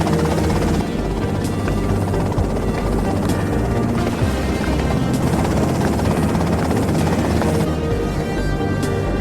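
Helicopter in GTA Vice City Remake, a loud continuous rotor drone with steady thumping chop, close and unbroken for the whole stretch, with no speech over it.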